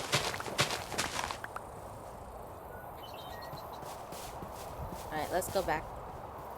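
Donkey hooves clip-clopping in a modded video game with a homestead setting, soft steady footfalls on the ground near the listener, with someone talking briefly at the start and end.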